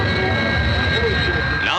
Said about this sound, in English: Now the Victor, Britain's crescent wing bomber. Powered by 4 Sapphire jet engines